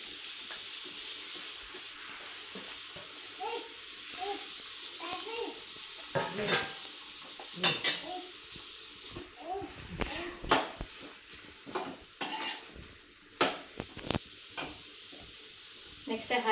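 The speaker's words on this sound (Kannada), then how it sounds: "ಇದನ್ನ 3ನ್ನ ಎಣ್ಣೆದಲ್ಲಿ ಹಾಕಿ ಹುರಿದ್ಬಿಡ್ತೀನಿ" Capsicum frying in oil in a home kitchen for a pizza topping, a steady sizzle broken by scraping stirs and occasional pan knocks, with a voice faintly audible at times.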